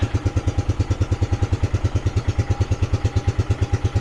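A Suzuki LT300E ATV engine idles close up, a steady, fast, even putter of pulses with a faint clatter, running alone without any speech for the whole stretch.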